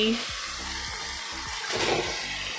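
Chopped vegetables hit a hot frying pan in a Goan home kitchen, giving a hissing sizzle that swells briefly near the end while a voice talks over it.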